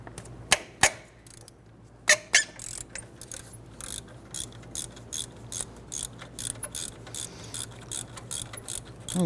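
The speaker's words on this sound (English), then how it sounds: "Using our 15mm. I'll go ahead and break the two 15s loose here." A 15mm ratchet wrench breaking loose alternator bolts on a 1999-2004 Jeep Grand Cherokee 4.7L V8, giving a close, rapid series of sharp ratcheting clicks with a few louder clacks and brief pauses.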